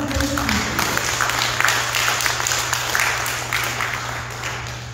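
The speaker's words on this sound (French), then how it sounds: "Applaudissez Notre-Dame de Guadalupe." A church congregation at a Creole-language Mass applauds in honour of Our Lady of Guadalupe: steady, dense clapping that fills the room for several seconds without a break.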